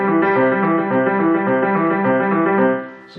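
A piano runs a fast Alberti bass pattern, with rapid, even broken-chord notes blurring into a continuous ripple, played loud and alone.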